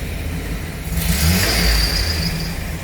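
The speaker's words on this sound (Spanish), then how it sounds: "Voy a dar un acelerón a ver si sube un poco más." A car engine with a misfire confined to one cylinder head revs up under a throttle blip, climbing from a steady idle to a loud, sustained high-pitched roar that then eases slightly, close to the listener.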